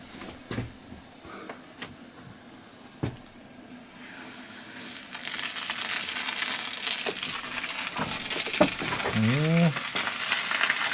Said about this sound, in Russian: Сейчас будет процесс жарки.